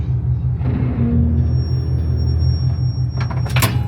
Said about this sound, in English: Gotta retract it a little.